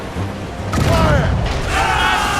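In Assassin's Creed Rogue, the Morrigan's ship cannons fire in a naval battle. Heavy booms and thuds land close together amid creaking, mechanical clatter, with shouting voices mixed in.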